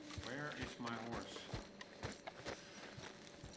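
Horse hooves clip-clop in Red Dead Redemption 2, a run of regular close thuds over a couple of seconds, mixed with voices and game ambience.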